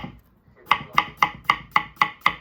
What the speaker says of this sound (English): Chop up the green pepper.